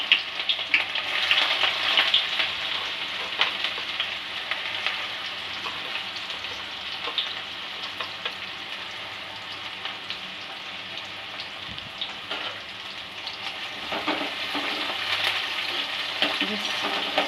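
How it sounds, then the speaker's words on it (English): Onions sautéing in a pan for a green chicken curry, giving a steady dense sizzle and crackle throughout with occasional stirring, close and fairly loud. "So now I'm adding the onions."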